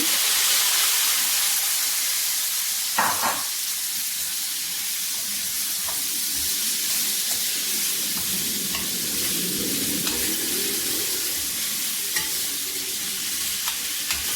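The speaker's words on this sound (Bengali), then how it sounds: "মশলা সঙ্গে নেড়ে ছেড়ে ভালো করে মিশিয়ে নেব" Potatoes, carrots and onions frying in a pan with spices as they are stirred, a constant loud sizzle with occasional scrapes and clinks of the spoon throughout.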